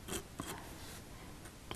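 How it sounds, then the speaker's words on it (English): Soft scratchy strokes of a coloured pencil held flat on paper, drawing grass texture, a few quick rasping passes, close and quiet with no voices. "I'm using it quite flat to the paper, and scratch down"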